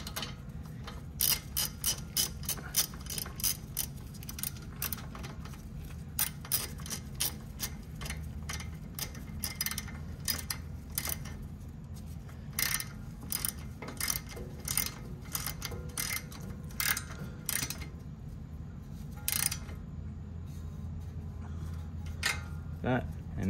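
Ratchet clicks sharply in a rapid, steady rhythm as a 12 mm socket tightens a brake hose bracket bolt on a 2018-2021 Subaru WRX, close and clear over a low background hum for the whole stretch.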